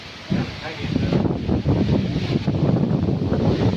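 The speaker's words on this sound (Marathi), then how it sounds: "बाहेर एवढा प्रचंड वारा सुटला आहे ना" Strong wind buffets the microphone in a continuous loud roar, gusting steadily throughout, outdoors at a Khandoba temple in Wakdi.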